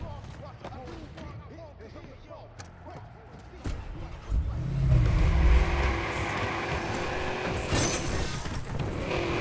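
A car engine rumbles and picks up as a vehicle drives in the Watch Dogs video game, a low growl rising midway under game sounds and a voice talking.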